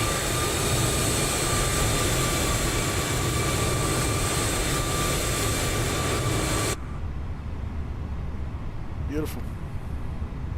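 Fenix A321-200 jet engines running in Microsoft Flight Simulator, a loud steady whine and roar with sustained tones that cuts off abruptly, followed by quieter background hum.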